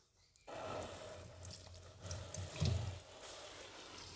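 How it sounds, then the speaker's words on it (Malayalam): A tap runs steadily as freshly picked pumpkin leaves are washed under it, the close, continuous splash swelling briefly when the leaves are moved through the stream; no one speaks. "ഇനി നമുക്കിത് നല്ല വൃത്തിയാക്കി കഴുകി എടുക്കണം."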